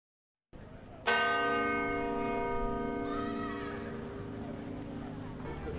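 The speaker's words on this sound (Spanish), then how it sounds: "Las campanas de la Catedral de la Almudena tocaban esta mañana en señal de duelo y oración" A large bell of Almudena Cathedral in Madrid tolls in mourning with a deep, ringing strike that hums and slowly fades, a second strike joining in, with faint murmur beneath.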